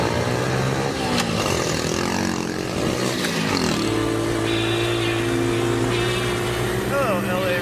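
A small mini bike engine drones steadily while riding through Los Angeles rush hour traffic, loud and continuous with shifts in pitch as it revs, and people talk over the engine noise.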